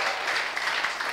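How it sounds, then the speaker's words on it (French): A church congregation gives loud, dense applause during a pastor's testimony segment, a short continuous wash of many clapping hands with no pauses. "Ça s'applaudit très très très très très très très fort."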